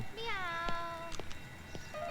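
A cat being fed gives one drawn-out meow close by, then a few shorter, fainter mews, with light handling noises in between.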